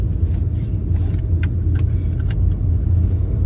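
An old 1999 car runs with a loud, steady low rumble heard from inside the cabin, broken by a few light clicks and rattles.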